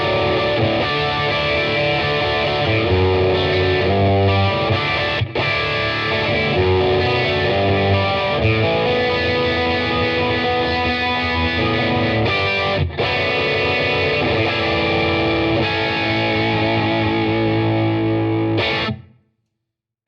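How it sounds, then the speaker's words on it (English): Electric guitar played through a Fender Champion 100XL amplifier with chorus and distortion engaged, loud sustained chords and riffs running continuously for about nineteen seconds before cutting off abruptly into silence. "And then we can hear what the chorus sounds like in the amp with distortion."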